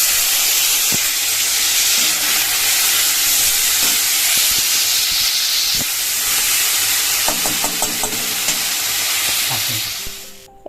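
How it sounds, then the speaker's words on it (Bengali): Banana stem frying in a pan over a mustard seed and dry red chilli tempering gives a loud, steady sizzle for about ten seconds. Scattered clinks of stirring rise above it before it fades at the end. "থোর ভাজার জন্য সরষা শুকনো লঙ্কা ফোড়ন দিয়ে দিয়েছি"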